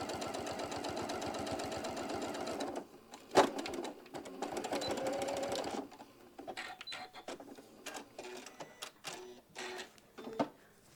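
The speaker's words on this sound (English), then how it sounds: "Just give it a quick stitch all the way around" A sewing machine runs a quick line of stitches around a quilt appliqué piece, a fast steady rattle for about three seconds, then shorter bursts and stops with clicks and handling noises up close.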